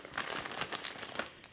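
Plastic bag from a VEVOR 300 bar compressor kit crinkling steadily up close, a continuous rustling and crackling texture with soft irregular peaks.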